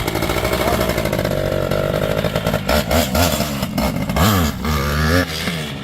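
A vintage two-stroke motorcycle revs hard for a wheelie, a loud close buzzing engine that surges and drops in repeated bursts of throttle.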